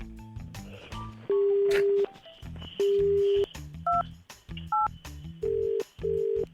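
A phone number being dialed on a telephone keypad during a radio prank call: a string of close, loud touch-tone beeps of varying pitch, some short and some held longer, with faint background noise between them.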